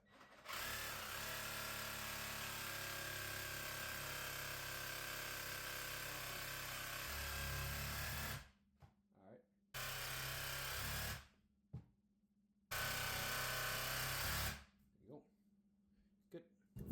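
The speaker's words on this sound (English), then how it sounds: "just gonna cut that with the Sawzall" A Sawzall reciprocating saw cuts through a deer neck: a long loud buzzing run of about eight seconds, then three shorter bursts separated by pauses with faint handling sounds.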